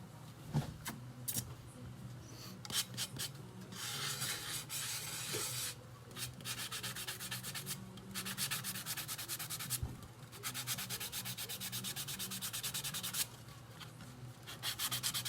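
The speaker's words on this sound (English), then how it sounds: "My sanding block again." Long stretches of sanding a tumbler with a sanding block, rough scratchy strokes in bursts with short pauses between, close and fairly loud.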